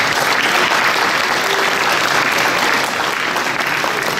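At a market opening, a crowd gives loud, sustained applause for M. Verest, a dense steady clapping that fills the space evenly.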